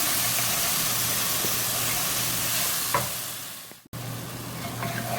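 Tomatoes cook down with browned onions in a pot for braised short ribs, a steady close sizzle and hiss with stirring scrapes, a brief dip and pause, then bubbling again.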